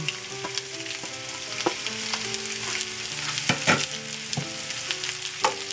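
Thinly sliced large onion frying in oil for chicken changezi, a steady close sizzle broken by sharp scraping knocks of a spoon stirring the pan several times, with no talking.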